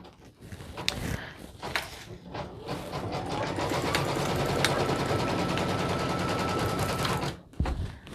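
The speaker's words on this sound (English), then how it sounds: "I'm going to let that stitch for a little bit until it's out of the way" Embroidery machine stitching a handmade fleece hat: a rapid, steady mechanical rattle of the needle running for several seconds, close and fairly loud, with a few clicks and knocks at the start and end.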